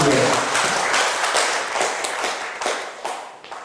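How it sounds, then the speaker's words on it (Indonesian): An audience applauds with dense, steady clapping that slowly tapers off, at a Buddhist talk event. "Tepuk tangan yang meriah untuk Samanera Akbar."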